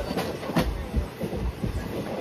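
A moving long-distance passenger train heard from inside, a steady rattling rumble with rhythmic clickety-clack wheel beats over the rails.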